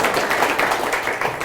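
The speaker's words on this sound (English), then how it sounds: "Give Bristol Brewing another round of applause" Audience applause for Bristol Brewing at an outdoor trail dedication, a dense steady patter of many hands clapping throughout, fairly loud and close.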